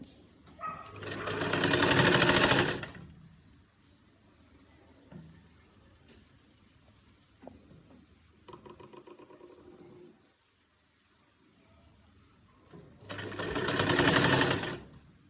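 A sewing machine stitches a sleeve onto a shirt in two loud bursts of rapid stitching a few seconds long, separated by a quieter stretch of handling the cloth and soft clicks.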